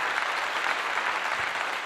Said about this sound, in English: Give you all a clap.